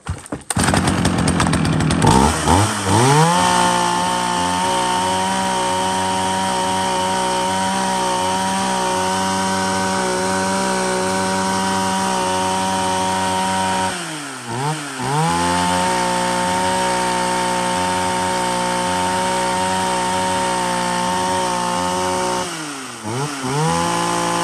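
A Japanese B9 professional logging chainsaw runs loud and close with a steady high-pitched engine whine. It drops briefly twice in revs and then climbs back up.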